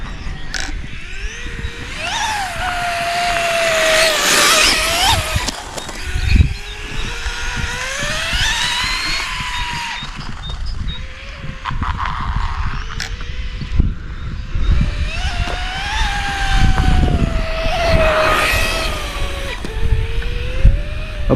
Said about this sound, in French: t'entends la chaîne, elle gratte quand même la chaîne par terre